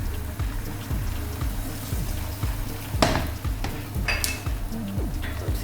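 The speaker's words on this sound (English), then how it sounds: "egg into the pan. Make sure the egg covers the whole part of the pan." Egg frying in a pan before chorizo goes back on, a steady close sizzle with scattered crackles and a few sharper pops, alone without talk.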